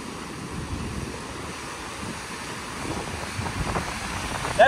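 Water pours through dam spillways on the Androscoggin River, a steady broadband roar heard from a distance, alone and without voices.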